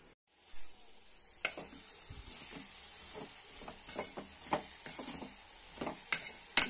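Cluster beans curry cooking in a pan, with a faint, soft sizzle under repeated light scrapes and clinks of a spoon stirring. The sound is close and quiet, with no talking.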